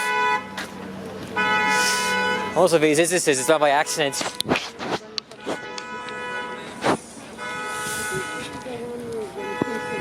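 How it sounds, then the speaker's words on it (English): Car alarm and horn blaring on a busy midtown Toronto street at rush hour, repeated loud honking tones with traffic noise, while someone talks nearby. "That's a car alarm going off."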